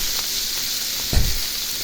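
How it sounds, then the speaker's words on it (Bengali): Fish frying in hot oil gives a steady, close, loud sizzle and hiss with one brief spatter burst near the middle, and no talk. "দেখুন আমি সব করা মাছটা ভেজে নিব সুন্দর লাল লাল করে"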